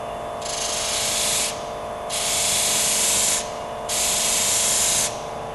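A disc sander works material in three separate passes of rough, hissing grinding, each lasting about a second, with the motor's steady hum running between them.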